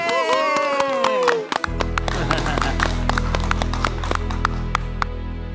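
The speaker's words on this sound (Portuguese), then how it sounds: "palmas pro Caíto." A studio audience on Shark Tank claps for a broom demonstration. Dense, fairly close applause starts after a brief stretch of excited voices and continues steadily to the end, with a low hum running beneath it.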